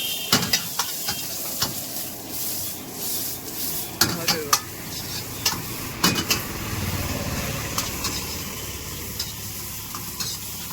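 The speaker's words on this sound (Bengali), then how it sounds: "পাত্তাকপি দিছে, গাজর দিছে, ক্যাপসিকাম, এখন এটাকে ফ্রাই করবে" Cabbage, carrot and capsicum being stir-fried for chowmein at a street chowmein stall, a steady sizzle with repeated sharp scrapes and clanks of the utensil against the pan, loud and close over background street noise.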